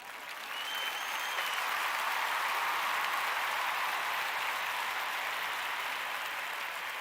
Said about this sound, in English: Let's give him the clap.